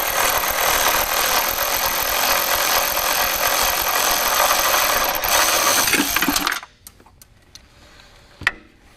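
A power tool buzzes steadily and loudly for about six seconds while removing a 10mm bolt near the horn on a Chevy ZR2 diesel, then stops abruptly, followed by quiet with a few small ticks and a sharp clink.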